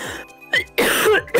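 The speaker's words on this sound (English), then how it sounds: "Cough is spreading." Several close, loud coughs and throat-clearing bursts from a gamer during an online Mario Kart session, coming in separate bursts with short pauses between them.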